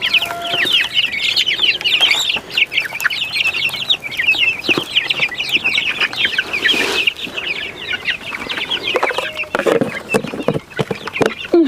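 A flock of chicks and chickens clucks and peeps continuously up close, with shrill chirps layered over lower clucking, plus a few brief rustles and knocks.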